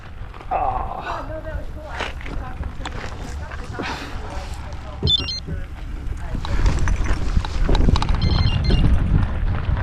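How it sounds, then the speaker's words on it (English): Horse hooves clip-clop along the Mickelson Trail near Hill City with people talking over them, steady outdoor noise and wind, growing louder toward the end. "Horses."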